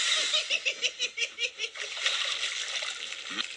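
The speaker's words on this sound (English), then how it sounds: "Muddy rainwater had splooshed all over Emily" Water splashes as a toy train engine plows through a muddy rain puddle, a rapid series of rhythmic splashing bursts followed by a longer washing spray, close and fairly loud.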